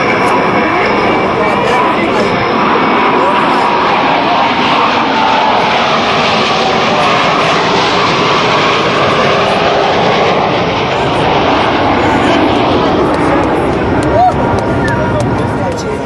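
US Navy Blue Angels jets in a tight four-aircraft diamond formation pass over an Air National Guard open house airshow, a loud, sustained roar of jet engines that swells and lingers for the whole stretch, with crowd babble beneath.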